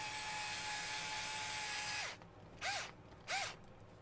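A power drill at its lowest torque setting drives a screw, with a steady whine for about two seconds, then two short pulsing bursts as the clutch slips, close and moderately quiet.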